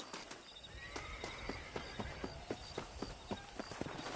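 A horse in the Red Dead Redemption video game whinnies, then trots with a regular clip-clop of hooves, fairly quiet and close, while cattle are herded.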